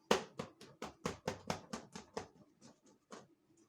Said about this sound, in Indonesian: Tepuk tangan untuk Paulo.